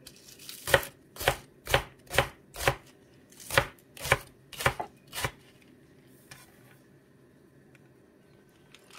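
Thick leek stalks chopped with a knife on a board: nine sharp, steady chops close to the mic, then a few light scrapes in a quiet room.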